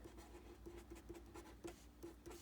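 Dark green magic marker writing across a map surface, with quiet repeated scratchy strokes in a steady stop-start rhythm, close and faint, with no talking.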